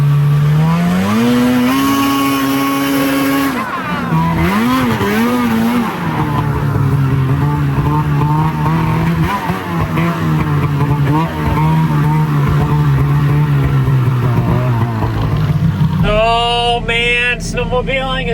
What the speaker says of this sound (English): snowmobiling is so fun